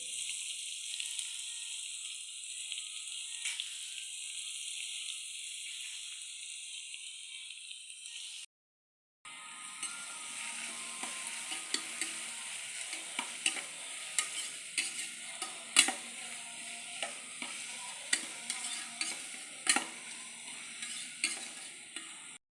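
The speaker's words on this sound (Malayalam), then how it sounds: "അതിലേക്ക് സവാള ഇട്ട് വഴറ്റുക" Onions with curry leaves and mustard seeds sauté in an open pressure cooker, first a steady hissing sizzle, then after a brief gap a sizzle with repeated scraping and clinking of stirring against the metal pot, nearby and moderately loud.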